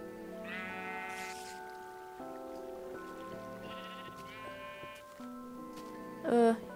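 Repeated Minecraft sheep bleats in a cave, sounding several times over steady pattering rain, with a brief louder burst near the end.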